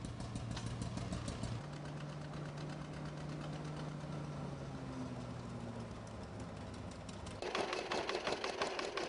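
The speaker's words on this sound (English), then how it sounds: "The belt pulley on the tractor is operating this huge ventilation fan" A John Deere tractor's belt pulley drives a huge ventilation fan, a steady low engine drone with humming tones, getting louder and more rattly near the end.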